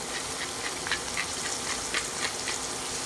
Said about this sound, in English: And I'm gonna saute these peppers